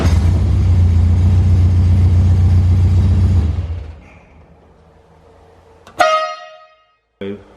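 A rat rod car with an unusual engine swap, heard as a loud, deep engine rumble that stops abruptly, then a sharp electronic beep and a short tone.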